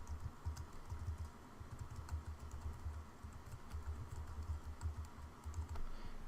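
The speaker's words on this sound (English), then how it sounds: "type in a website again" Keys clatter on a computer keyboard as a web address is typed into a simple browser app, a steady run of quick close taps with short pauses, fairly quiet and with no talking.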